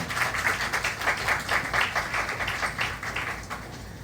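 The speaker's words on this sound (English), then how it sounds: "So please join me in giving them a round of applause at this time." Audience applause fills a high school ring ceremony, continuous crowd clapping with a slight swell early and a gradual fade toward the end.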